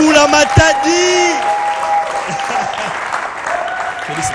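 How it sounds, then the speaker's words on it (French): Applause for a performer at a French-language comedy show, a dense sustained clatter of clapping filling the room, with musical tones and voices mixed in over it. "tonnerre d'applaudissements pour Dauphin Boula Matadi"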